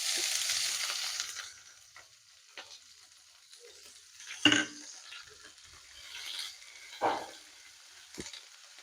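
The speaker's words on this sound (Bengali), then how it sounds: "আদা লঙ্কাটাকে একটু ভেজে নিচ্ছি।" Chopped ginger and green chilli fry in oil with fennel and cumin seeds for a masala paneer dish, a steady sizzle that fades after the first second or so, broken by a few sharp clinks and scrapes of stirring.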